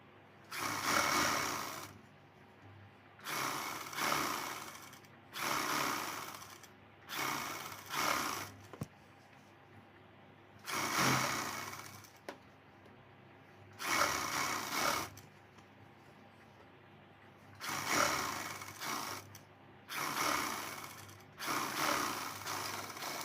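Domestic sewing machine stitching a half-inch seam to attach a cut strip onto a 36-size princess-cut blouse, running in about nine separate close, steady bursts with short pauses between them.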